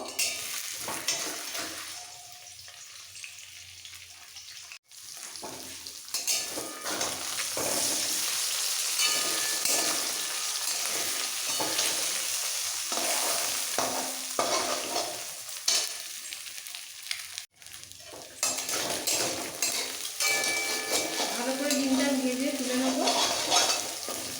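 Eggs seasoned with a little salt and pepper powder fry in a pan, giving a continuous close sizzle that drops out briefly twice before crackling on steadily.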